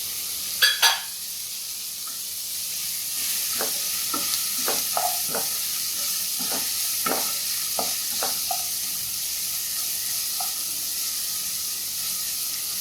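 Chopped ginger and garlic stir-frying in a pan for Schezwan veg fried rice: a steady hiss of sizzling oil broken by repeated spatula taps and scrapes, with two sharper knocks near the start.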